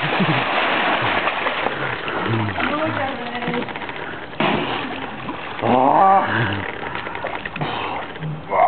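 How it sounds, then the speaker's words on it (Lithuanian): Cold shower water runs in a steady broadband spray with splashes, close and fairly loud, while people talk over it throughout. "Koks dušas šaltas."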